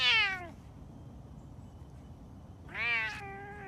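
A rescued big cat in an enclosure gives two drawn-out, wavering meow-like calls, one at the start and one near the end, loud and close, with quiet outdoor ambience between them.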